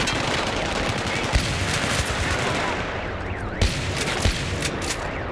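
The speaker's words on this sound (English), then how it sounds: "the 870 MCS pump shotgun may just be the most beautiful sound I" An 870 MCS pump shotgun fires in a Battlefield 3 battle, a few sharp booming shots standing out from a dense, continuous wash of gunfire and combat noise, loud and close, with no talk.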